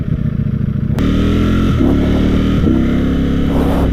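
A Ducati Streetfighter V4S motorcycle engine revs loudly and close, climbing through quick gear changes with brief dips between pulls. It roars continuously on its own.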